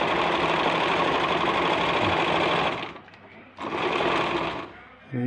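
Brother Pacesetter sewing machine stitching fabric, a loud close whirring motor running steadily, stopping briefly, then resuming before halting again.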